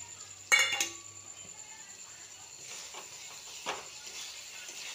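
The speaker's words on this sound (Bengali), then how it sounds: "তো এবার আমি পনিরটা দিয়ে দিচ্ছি" Paneer cubes dropped into a pan of fried onion and spice paste, with a sharp clattering clink near the start, then soft scraping and stirring of utensil against pan continuing quietly.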